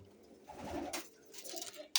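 Soft pigeon coos sound nearby amid light rustling, followed by a brief sharp chirp at the very end.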